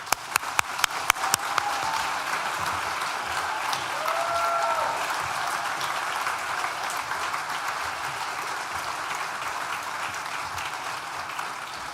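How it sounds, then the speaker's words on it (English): A graduation ceremony audience at a business school applauds: a few sharp claps lead into sustained, even crowd applause filling the hall, with a faint voice briefly heard in the middle. "Fellow graduates, I ask you all to join me in a huge round of applause for all."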